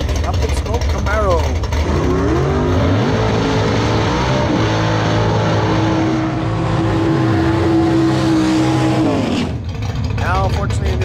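A blue Pontiac GTO and a Camaro at a bracket drag race at Maui Raceway Park, engines droning loud and steady with rising and falling revs, the roar continuous throughout while a commentator talks over it.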